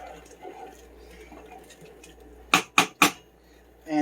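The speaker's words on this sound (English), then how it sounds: "So I'm going to go ahead and give these a good stir." Potatoes partly cooked are stirred in a pot, heard as three quick loud clanks of a utensil against the pot near the end, after a quiet stretch of faint kitchen noise.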